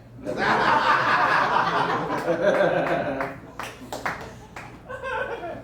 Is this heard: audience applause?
yes